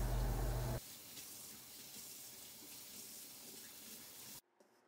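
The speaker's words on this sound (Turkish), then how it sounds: "Daha sonra bir süzgeç üzerine alarak fazla suyunu süzdürelim." Water runs over washed peppers in a colander, a steady hiss of flow that stops abruptly near the end, after a louder burst of water at the start.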